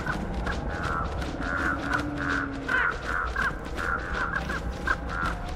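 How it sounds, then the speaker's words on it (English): Crows cawing repeatedly in a steady series of harsh calls, moderately close, with several birds overlapping over a constant background rumble. "We have three crows."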